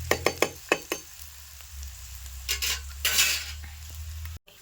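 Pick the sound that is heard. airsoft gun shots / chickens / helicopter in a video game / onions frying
onions frying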